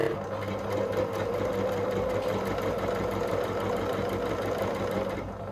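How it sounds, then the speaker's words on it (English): A sewing machine stitches bias tape onto a garment seam at a quarter-inch allowance, running steadily and close up with a continuous motor whir for the whole stretch. "I'm going to sew that seam using a 1/4 inch seam allowance."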